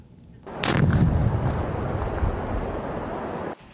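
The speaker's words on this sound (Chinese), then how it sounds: "无法度拆的，只好现场引爆" A landmine detonated on site by Russian sappers near Kherson, Ukraine: one sharp, loud blast followed by a deep rolling rumble that lingers for a few seconds before cutting off.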